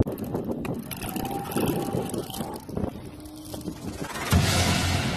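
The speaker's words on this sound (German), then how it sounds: "Erster Windenstart für heute." A model glider makes its winch launch at a model flying camp. Whooshing wind and a whirring mechanical drone build over several seconds, with a louder gust near the end and no talking.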